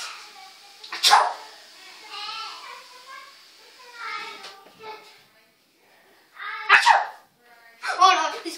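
Loud voiced 'achoo' sneezes, two to three of them, burst out between quieter stretches of light vocal sounds and breathing.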